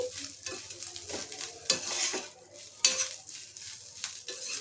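Egg fried rice is stirred and mixed in a pan, a spatula scraping and clacking against the metal in uneven strokes over a soft sizzle, with two louder knocks and no voices.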